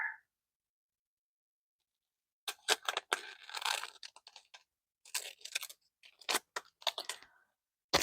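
Close, crisp cutting of material with scissors, in short bursts of crunchy snips separated by pauses, with no talking.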